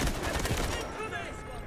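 PTR-32 assault rifle hipfired in Delta Force, a rapid automatic burst of dense, loud gunfire that cuts off about halfway, leaving a fading rattle and echo.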